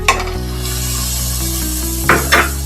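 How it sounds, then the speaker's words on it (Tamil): Onions and tomatoes sizzle steadily in a pan while being sautéed for mutton sutriyan, with a low electric hum underneath and a couple of sharp clanks of a stirring spoon against the pot near the end. "நல்லா வெங்காய தக்காளி நல்லா வதக்கியாச்சு"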